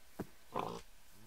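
A Minecraft pig gives a short grunt and then a longer oink, quiet and close, with nothing else going on around it.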